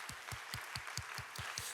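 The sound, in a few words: church congregation applauding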